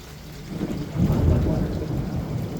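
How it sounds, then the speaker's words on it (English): Thunder rolling low through steady rain, a deep rumble swelling about a second in and lingering under the patter of falling drops. "That was a good thunder."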